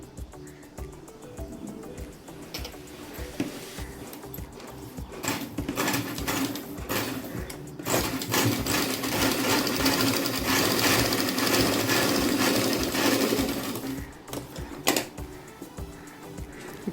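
A sewing machine stitching a blouse, its rapid mechanical chatter running in close, loud bursts with short stops between runs and a steady run through the middle, no talking.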